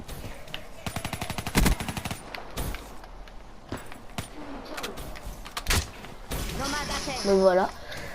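Gunfire from Call of Duty Black Ops 3 multiplayer: a rapid automatic burst early on, then scattered single shots and further bursts, ending in a louder volley, with game effects and ambient noise throughout.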